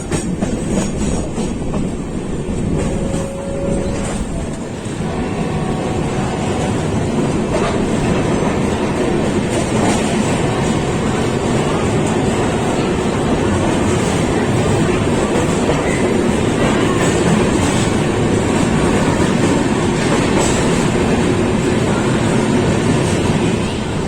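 The Rameshwaram-Banaras superfast express pulls into Maihar railway station, heard from on board as a loud, continuous rumble with rhythmic clickety-clack of wheels on rails throughout.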